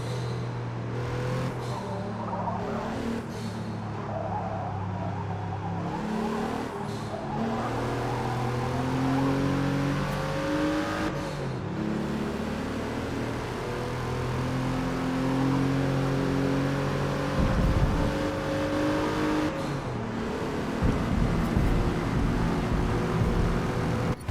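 In the Forza Motorsport racing game, an Alpine race car's engine drones and revs through repeated gear shifts, rising and falling in pitch over a steady roar, loud and continuous with no talk.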